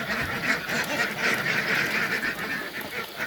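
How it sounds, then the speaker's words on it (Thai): A flock of about 200 ducks quacks continuously inside a wire-mesh duck house bedded with fresh rice husk. The calls are dense and overlapping, loud and close, with no talk. "เดี๋ยวเป็ดจะตื่นจะเครียดนะครับ"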